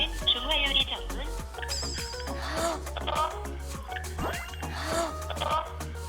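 A telephone gives a short warbling ring amid lively voices talking in a room.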